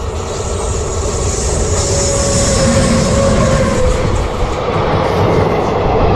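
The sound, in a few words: train passing over railway bridge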